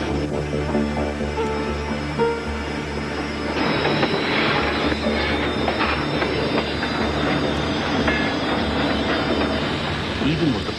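A 250-ton Conrail freight train with a wide snow plow on its front, braking hard on the tracks: a loud, continuous rumble of rolling cars with metallic wheel squeal rising over it, close and steady throughout.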